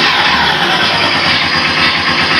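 Simulated engine sound played through an app on a Super Soco TC Max electric motorcycle, a loud, steady synthetic rumble with no pauses.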